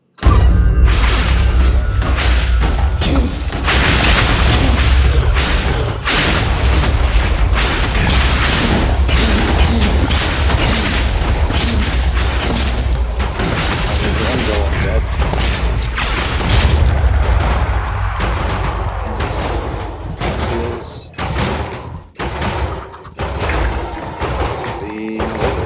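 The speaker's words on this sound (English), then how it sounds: "Wait for the explosion." Rapid, loud explosions and heavy thuds pile up continuously in Minecraft combat against the wither, dense booms and crashes stacking over one another before thinning out into scattered blasts near the end.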